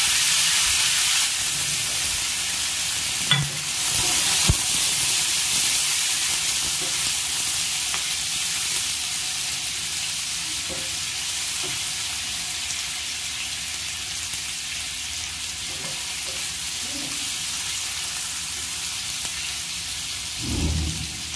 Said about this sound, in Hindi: हींग को लाल होने पर इसे हम छोटे छोटे पनीर करके फ्राई कर देंगे।